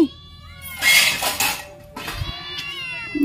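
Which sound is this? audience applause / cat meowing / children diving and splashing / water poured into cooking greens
cat meowing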